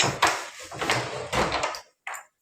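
A PVC door slides along an aluminium track in a home, giving several close rumbling, scraping runs that stop short, followed by a final brief knock.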